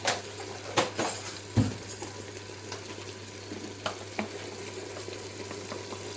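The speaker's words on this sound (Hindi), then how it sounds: "10 मिनट हो गए हमें कलेजी को भूनते हुए" Mutton liver fries with garam masala and whole cumin in a pan, giving a low steady sizzle broken by a few sharp clinks and stirring scrapes near the start.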